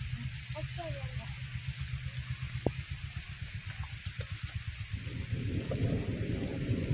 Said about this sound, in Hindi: बारिश बहुत तेज हो गई है इसलिए रुके हैं